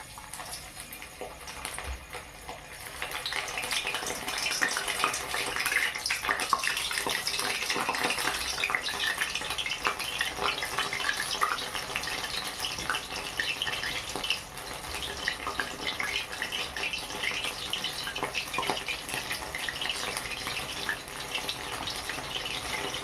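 Snail fritters frying a few at a time in hot oil, a steady close hiss and crackle of bubbling oil that swells after the first seconds and carries on evenly throughout, with no voices.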